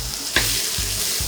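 Chicken, capsicum and broccoli stir-fry for restaurant-style chicken chow mein: a steady loud sizzle across the whole stretch, with scraping clanks of the utensil against the pan as the food is tossed, no talk.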